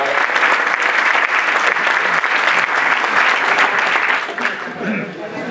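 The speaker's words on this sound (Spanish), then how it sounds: "damos un aplauso a Carmen" Audience applause at a Spanish award ceremony, the Pantortilla de Oro y Flor de Nieve 2024, loud and dense clapping that holds steady and then thins out near the end, with voices mixed in.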